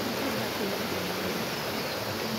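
Water pouring out of the Sardo hydropower outlet in a park in Dharan, Nepal, a steady dense rushing roar like a stream or small waterfall, close and constant throughout.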